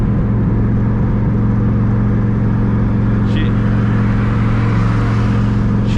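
A twin-turbo Terminator Cobra's engine pulls hard under acceleration, a loud, steady low drone with a continuous whooshing, heard from inside the car for several seconds without talk.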